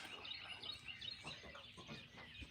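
Outdoor honking and clucking calls from a group of birds, fairly faint and overlapping, with a busy background and no clear talking.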